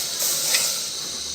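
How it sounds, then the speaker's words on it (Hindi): Milk is poured into water that was boiled for khashkhash tea, and the pot gives a brief, loud hiss and sizzle that fades slightly over a second and a half. "पानी हमारा अच्छी तरह से उबल गया है और ये खुश्क भी हो गया। अब हम इसमें दूध डालेंगे"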